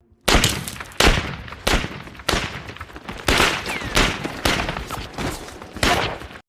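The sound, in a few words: gunfire as soldiers are shot in a war film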